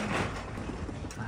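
A door slides briefly and faintly in a building in Kyoto, Japan, a soft muffled rumble lasting about a second with no talking.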